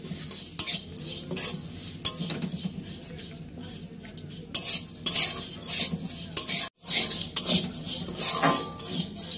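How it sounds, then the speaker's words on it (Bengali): Flour rice pellets are fried in ghee and stirred steadily in a pan, with a constant close sizzle under repeated scraping and clinking of a metal spoon, broken by one brief pause, and no talking. "ভালো করে আমরা এই ময়দার চালটাকে ঘিয়ের মধ্যে ভেজে নেব।"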